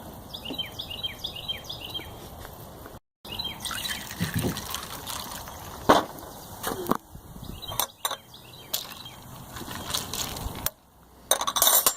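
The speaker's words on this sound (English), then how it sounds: "The last touch is soda water." Soda water pours into a 12-ounce glass to finish a Zamperini cocktail, a close fizzing trickle with light clinks and bubbling, interrupted by brief gaps and a few sharper knocks.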